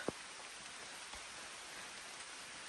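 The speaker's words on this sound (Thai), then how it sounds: "ฝนเนี่ย ตกลงมาละ" Steady rain falls with a dense, even hiss, a couple of faint drip taps standing out near the start.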